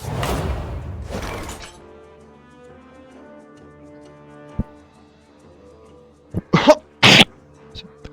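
Two rough coughs, loud and close, then near silence with a faint hum, followed by a sharp clatter of short game sound effects near the end.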